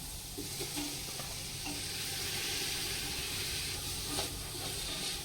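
Tomatoes added to sautéed onions in a pan for naatu kozhi biryani, a dense, steady close sizzle and hiss with faint stirring scrapes throughout.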